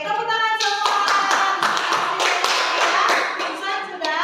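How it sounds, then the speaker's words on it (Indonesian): Children in a primary school class clapping their hands together, a dense burst of rhythmic applause lasting a few seconds with a voice and tonal sounds mixed in. "Oke, tepuk tangan semua."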